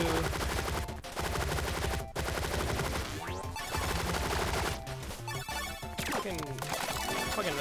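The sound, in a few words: assault rifle gunfire in Relic Hunters video game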